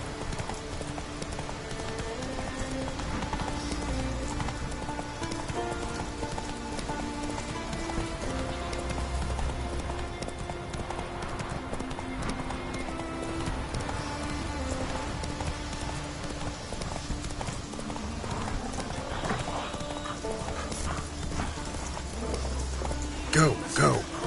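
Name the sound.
horse Roach galloping in video game The Witcher 3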